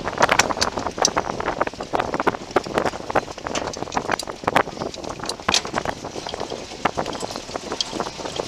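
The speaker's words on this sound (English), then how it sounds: "A little windy." Gusty wind buffets the microphone in rough bursts on a mountain, with scattered clicks and crunches from movement on the ground near a 1952 Land Rover.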